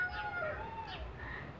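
Free-range chickens cluck and squawk faintly in the background over a low, steady outdoor rumble.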